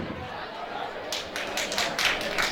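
Audience applause and cheering at a school competition grand final welcoming a performer to the podium. Crowd noise swells into a burst of clapping partway through, with voices mixed in.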